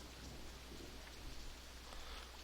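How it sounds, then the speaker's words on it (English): Steady rain hisses in the Roller Coaster Tycoon 2 video game, an even wash of drops that stays constant and fairly faint with no pauses. "Good, the rain's clearing up."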